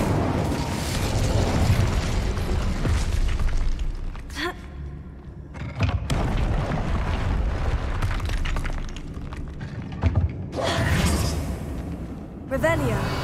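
Incendio fire spell bursts in Hogwarts Legacy, with loud whooshing fiery blasts and booming impacts repeating over several seconds amid game effects and brief pauses, and a voice speaks between them.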